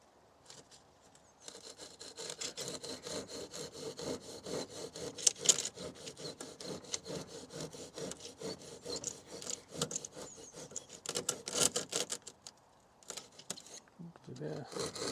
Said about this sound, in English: Do I just handsaw it?